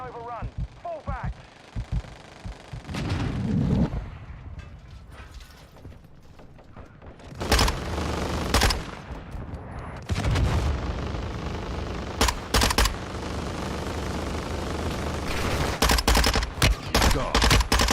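Heavy gunfire in Call of Duty: Modern Warfare II: dense, loud bursts of automatic fire and sharp single shots, with booming impacts, rolling through the whole stretch, under occasional in-game voice callouts.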